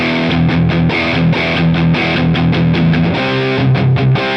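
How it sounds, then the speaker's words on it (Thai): A heavily distorted Umeda UST-20 RSM electric guitar plays through an amp, strummed chords with a thick, buzzing crunch that rings out steadily for several seconds. "ต่อไปผมจะไปลองเสียงแตกนะครับกับแอม"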